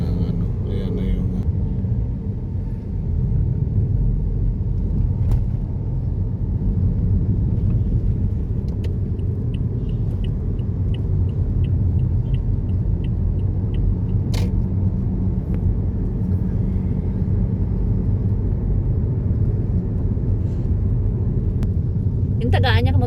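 A taxi drives along a road, its car engine giving a steady low rumble and road noise throughout, with occasional faint clicks over the continuous hum.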